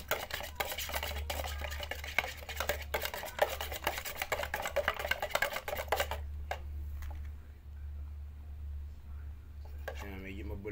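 Chameleon pigment powder mixed into an additive is stirred briskly, giving a fast, close scraping and rasping rhythm. It stops partway through, leaving quieter handling noises, and a voice begins speaking at the end.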